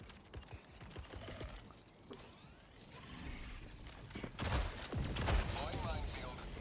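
Weapon fire from the video game Helldivers 2 on a bug-hunting mission, a dense stream of gunshots and mechanical clatter with rising intensity toward the end, sometimes mixed with talk.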